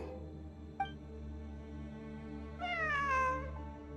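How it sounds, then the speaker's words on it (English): A cat in the game Genshin Impact gives a single clear meow near the end, rising then falling, heard alone over a steady droning in-game music bed. "A cat? I think there was one earlier, too."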